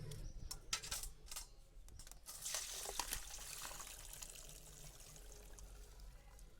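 Water drained off cooled boiled peas, a splashing pour with a few sharp knocks of a container at the start, then a softer, steady trickle that fades toward the end, close and without speech.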